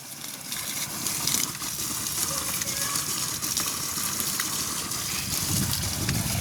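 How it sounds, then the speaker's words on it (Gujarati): Water is poured onto trees and plants in a steady, gushing splash that runs without a break, close by, with no talking. "ચાલો મિત્રો આપણે નાખીએ પાણી પેડ પૌધાને"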